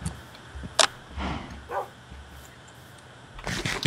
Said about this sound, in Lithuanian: Ir du šunis